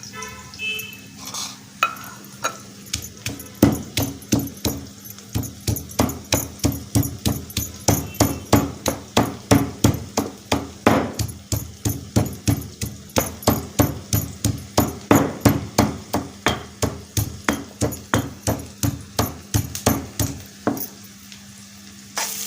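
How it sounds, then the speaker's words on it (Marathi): Coriander and garlic pounded in a mortar, a steady rhythmic run of sharp thuds, roughly two per second, close and loud over a faint background hum, with no talking. "लसूण आणि कोथिंबीर कुटल्या"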